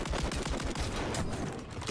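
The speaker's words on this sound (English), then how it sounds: "I'm shooting the fuck out of him right now" Dense, continuous automatic gunfire from Call of Duty MW3 roars loudly and without a break through the whole short stretch.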